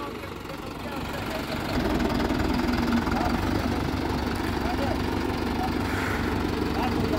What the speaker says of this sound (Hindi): एक बार चला के देखना चाहिए अपना ट्रैक्टर।